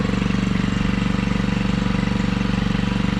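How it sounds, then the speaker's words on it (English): A gas-powered pump engine mounted on a farm planter runs steadily and loudly nearby, its fast, even putter sustained throughout with no talk. "put a gas powered pump on a planter"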